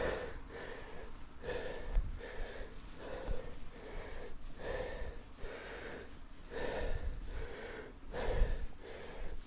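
Someone walking up a steep hill breathes heavily, with loud rhythmic inhales and exhales repeating about once a second, close to the microphone.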